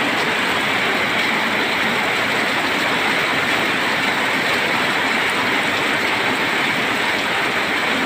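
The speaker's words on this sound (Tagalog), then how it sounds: "Eto tayo, lakas ng ulan, no?" Heavy rain pours down steadily, a dense, continuous hiss that fills the space with no pauses or other sounds.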